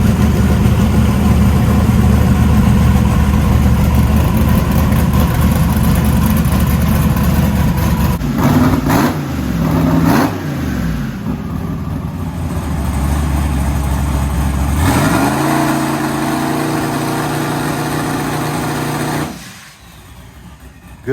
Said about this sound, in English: Billy fired the truck up, let it warm up really good